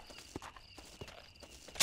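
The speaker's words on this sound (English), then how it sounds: "Stop kicking up dirt, horse." Horse hooves kick up dirt in the video game Red Dead Redemption: a few uneven, soft clip-clop thuds close by, spaced irregularly, ending in a sharper bright scuff.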